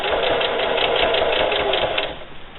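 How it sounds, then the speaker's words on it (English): A sewing machine stitches steadily forward through a can koozie, its rapid even needle clatter running close and loud throughout, easing slightly near the end. "Now you just want to continue sewing forward."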